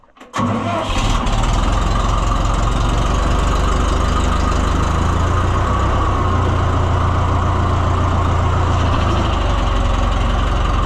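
Choked engine on a White 271 disc cranks briefly, catches and settles into a loud, steady rumbling idle, close up, holding constant for around ten seconds.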